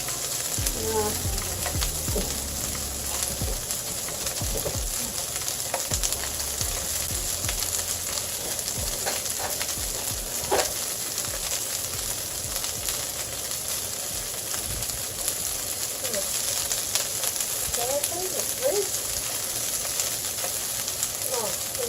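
Greens picked that morning sizzle steadily as they are stir-fried in sesame seed oil, a constant crackling hiss with occasional scrapes and clinks of the utensil against the pan.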